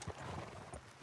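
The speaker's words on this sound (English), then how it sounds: "Off your horses here. We'll be better on foot." Horse hooves clop at close range in Red Dead Redemption 2, a brief quick patter of a few steps, fairly quiet.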